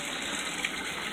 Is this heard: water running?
yes